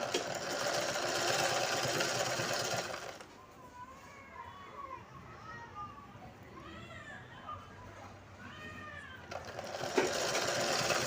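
A sewing machine runs steadily while stitching a blouse hem, stopping midway while a person speaks and then resuming loudly.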